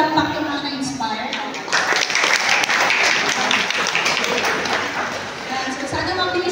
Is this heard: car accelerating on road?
no